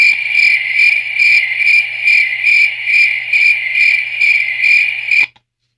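Crickets in a creek area of Sumner County chirp loud and close in an even, pulsing rhythm of about a dozen regular bursts, then cut off abruptly near the end.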